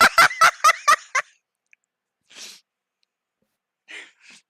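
A bird calls in a video game with a quick burst of five or six rapid gobbling squawks, then sparse faint chirps after long silences.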